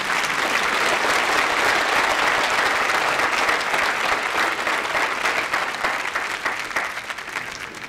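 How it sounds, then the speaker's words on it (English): A film festival audience applauds an award winner, dense sustained clapping from a large crowd that stays loud and even throughout, easing slightly toward the end. "Let's have a big round of applause for Marijn."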